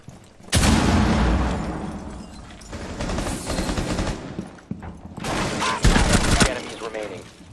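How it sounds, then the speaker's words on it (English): Grenade explosion and gunfire in the Rainbow Six Siege video game: a heavy blast followed by dense, rapid bursts of gunfire, then a second loud burst, with a voice talking over the action. "I'm gonna throw a grenade."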